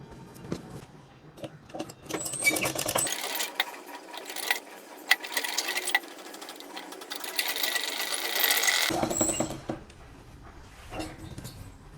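An electric sewing machine stitches dress fabric in a steady, fast mechanical whir that runs from about three to nine seconds, framed by shorter bursts and handling clatter with no talking.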